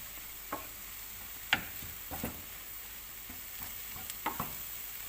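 Minced meat sizzling steadily in a pan while being folded and stirred, with a few scattered scrapes and clinks of a utensil against the pan.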